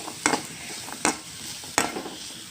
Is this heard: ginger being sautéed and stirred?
yes